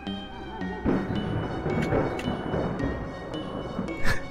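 Lightning in a spooky video game sets off a long rolling peal of thunder, a loud rumbling swell that lingers for several seconds with a sharper crack near the end.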